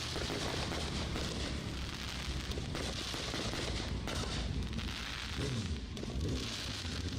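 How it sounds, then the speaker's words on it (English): Continuous crackling bursts and booms of a big fireworks pyrotechnic show at the end of a race night at Thunder Hill Speedway, dense and distant, with no one talking. "our fireworks guys are busy with the big pyrotechnic show here at the end"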